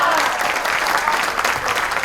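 Brief burst of audience applause at a Milagros presentation in Kendal, Indonesia, dense even clapping lasting about two seconds.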